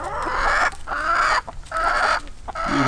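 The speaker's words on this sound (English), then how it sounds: "Beautiful chickens." Silkie chickens cluck and murmur close by in a garden food forest, a steady run of soft repeated calls with brief gaps and no talk.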